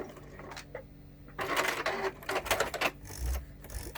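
Sewing machine stitching down the end of a fabric pouch in short bursts, quiet mechanical ticking at first, then several louder rapid runs of stitching with brief pauses between them, close and alone.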